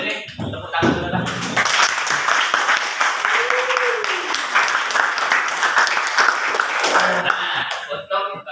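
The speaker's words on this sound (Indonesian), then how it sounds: "sebelum ini tepuk tangan dulu lah" A classroom group breaks into applause, steady clapping for several seconds with voices mixed in, then it tapers off.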